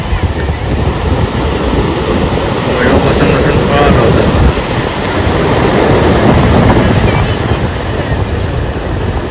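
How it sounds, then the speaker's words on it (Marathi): Strong sea waves roar and crash continuously on a beach in the rain during net fishing, with heavy wind buffeting the microphone and a voice speaking briefly over the surf. "लाटा जबरदस्त आहे"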